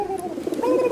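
A pigeon coos in soft, rolling low calls that run through the whole second, close and fairly steady, with no voices alongside.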